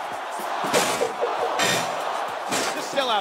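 A video game wrestling arena crowd in WWE SmackDown vs. Raw 2005 roars steadily throughout, with loud slams and thuds from the ring bursting over the constant din.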